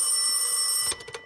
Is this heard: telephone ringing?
yes